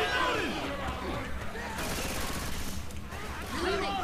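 Gunfire in the video game Left 4 Dead 2 as players shoot at a Hunter in a sewer, a busy burst of rapid shots over game noise, with voices talking throughout.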